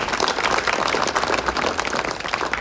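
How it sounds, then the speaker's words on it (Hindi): A crowd at a BJP political gathering in Ladpur village applauds, a dense, steady patter of many hands clapping at moderate distance throughout. "तालियां बजने लिए बताएं।"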